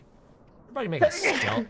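A single sharp sneeze bursts out during a tabletop role-playing game session, overlapping with a voice that talks through and after it, close and fairly loud.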